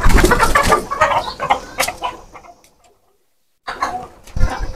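Chickens clucking inside a pigeon house, a burst of close, loud, busy clucks and squawks that fades to silence, then resumes.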